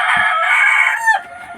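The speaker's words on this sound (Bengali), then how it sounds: "আপনারা জানেন আমাদের আসলে স্বপ্নের কিছু ফার্মে মুরগি আছে।" Fayoumi chickens on a farm, with a rooster crowing loudly and close in one long, sustained call that breaks off sharply near the end, followed by faint clucking.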